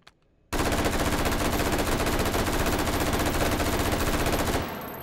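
An M16 emptying armor-piercing incendiary 5.56 rounds in the VR game Hot Dogs, Horseshoes & Hand Grenades, one loud sustained burst of rapid automatic fire lasting about four seconds, then cutting off with a short decaying tail.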